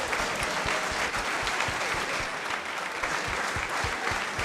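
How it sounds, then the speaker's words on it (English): Sustained applause from an audience at a football club talk-in event, a steady wash of many hands clapping throughout, fairly loud and unbroken, with no clear talk on top. "Can we have a big round of applause for the young lads?"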